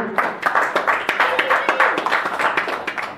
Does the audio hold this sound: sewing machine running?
no